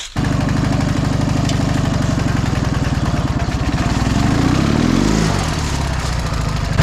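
A Dnepr MT 11 motorcycle on cross tyres churns through a forest swamp, its engine loud and close with a steady throbbing beat that climbs in pitch as it revs before dropping back.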